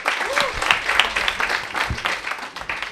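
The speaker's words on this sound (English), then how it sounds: "Give him a round of applause" Audience applause for a debater at a youth debate event, a moderate patter of clapping across the whole stretch with a voice and a few low thumps mixed in.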